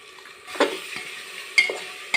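Masala rice with garam masala is stirred in a pan: a few distinct scrapes and clinks of a spoon against metal over a faint low sizzle, spaced irregularly and fairly close.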